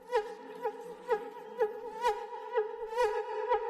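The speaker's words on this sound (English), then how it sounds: "has a rhythm of wild insects of the forest, but with science fiction texture" Film soundtrack theme built on a rhythm of wild forest insects with a science-fiction texture: pulsing, buzzing insect-like tones repeating about twice a second, close and clear, with no speech.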